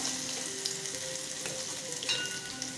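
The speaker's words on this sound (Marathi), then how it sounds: "जिरे मोहरी तडतडून झालेली आहे यामध्ये लसूण घालून घेऊया" Steady, bright sizzle of garlic frying in hot oil after cumin and mustard seeds have spluttered, close and continuous, with a few faint clinks of a utensil against the pan.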